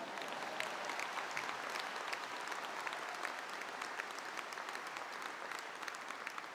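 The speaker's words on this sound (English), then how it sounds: "Yeah, you can clap. Why not?" Graduates at a Cardiff University graduation ceremony break into steady, dense applause from a large crowd that fills the hall evenly, with no pauses from start to finish.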